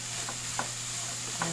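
Soup with a few sliced hotdogs being stirred in a cooking pot, a steady low simmering hiss with a few soft scraping strokes of the spoon, close by and without talk.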